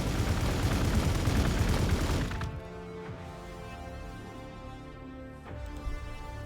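Dense, loud burst of gunfire from a Warhammer video game fills the opening two seconds, then cuts off, leaving a quieter tonal game backdrop with a faint thud near the end.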